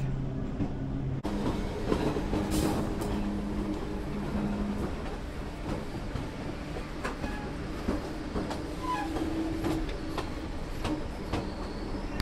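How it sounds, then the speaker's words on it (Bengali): A saffron Vande Bharat express train rolls into Howrah station, its steady rumble and wheel clatter continuous and fairly close, with brief squeals and platform bustle mixed in, no talking. "এই হচ্ছে অরেঞ্জ বন্দে ভারত, মানে স্যাফরান বন্দে ভারত, যেটা এটা হাওড়া স্টেশনে ঢুকছে"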